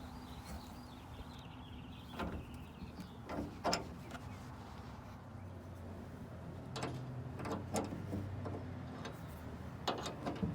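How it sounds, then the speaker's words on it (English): A 3/8-inch open-end wrench loosening the antenna on a Jeep Wrangler, faint metallic clicks and scraping ticks scattered irregularly over a quiet background. "I'll be using a 3/8-inch open-end wrench to start removing the antenna."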